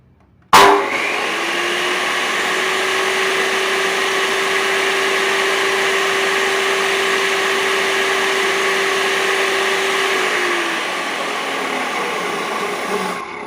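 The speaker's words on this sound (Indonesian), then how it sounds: "Sekarang melakukan pengetesan RPM dan watt tanpa beban." A Bosch GCO 2000 chop saw running without load starts with a sharp click, then whines at a steady high pitch for about ten seconds before spinning down. The sound is loud and close, with no talking.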